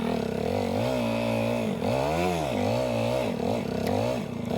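A Yamaha TW200 motorcycle engine revs hard near redline while climbing a steep, slippery snowy mountain slope, its pitch rising and falling in repeated swells, close and continuous.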